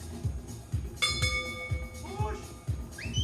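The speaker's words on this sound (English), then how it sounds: "So the bell goes off." At a track meet race, a bright ringing bell sounds several times with rhythmic strikes over an announcer's steady commentary on a public-address system.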